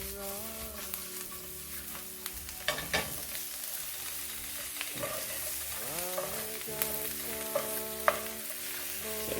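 Mushrooms sizzle in hot oil in a pan while being stirred, with a constant close frying hiss broken by scraping stirs and a few clinks against the pan, over a faint steady hum.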